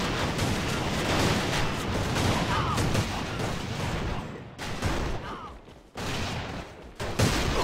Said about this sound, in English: I'm trying to shoot Miley.